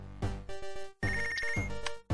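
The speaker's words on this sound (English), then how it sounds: "Phone call." A telephone rings in the boxing-management video game Punch Club, sounding as four loud, bright electronic ring bursts in a steady rhythm, with no talking over it.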